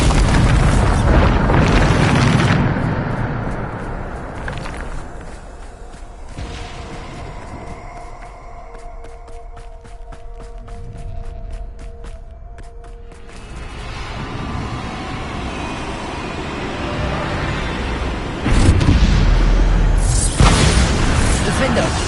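Bombarda spell blasts in the Hogwarts Legacy video game: loud booming explosions at the start and again near the end, with rumbling noise and a mechanical rattling passage between them.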